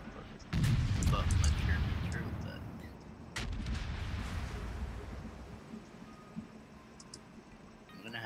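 Warship main battery guns firing in the World of Warships video game, a heavy booming salvo followed by a second blast with rumbling decay, under a player's commentary.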